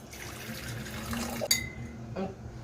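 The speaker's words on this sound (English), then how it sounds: "So next I'm going to add in our water." Water, 240 grams, pours briefly into a container for homemade shower gel with a soft splashing fill, followed by a light clink of glass or dishware; quiet and close.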